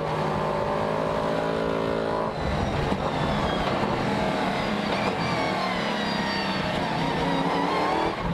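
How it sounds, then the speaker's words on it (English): Loud V8 race car engines, a 5-litre Nissan and a 7-litre Corvette, roar and rev continuously at Zolder circuit, pitch rising as cars accelerate and others pass close by, no talking. "Both cars are V8s, 5-litre Nissan versus 7-litre Corvette."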